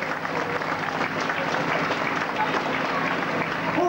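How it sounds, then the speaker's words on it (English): An outdoor crowd applauds at a small-town St Patrick's Day parade in Clara, County Offaly, producing a steady wash of clapping that stays even and moderately loud for the whole stretch. "Give them a large round of applause again."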